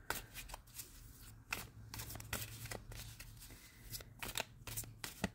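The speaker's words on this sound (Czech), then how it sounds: "Tak, z karet radosti si vytáhneme pár kartiček." Cards being shuffled in quick riffling bursts, several in a row with brief pauses between, close and fairly crisp.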